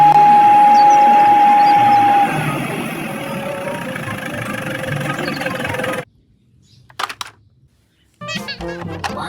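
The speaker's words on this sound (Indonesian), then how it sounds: "Ini ada truk ngangkut pasir." A sand-hauling truck's engine runs steadily and fairly loud, then cuts out around six seconds, leaving brief clatter and a short pause before another engine-like rumble resumes.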